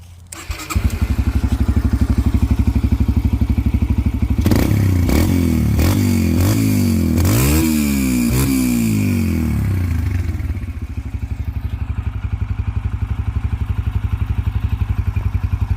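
Yamaha TTR125 trail dirt bike, low-geared, ridden close by: a steady loud engine drone with throttle blips and rising-falling revs midway, then settling back to a lower idle-like chug.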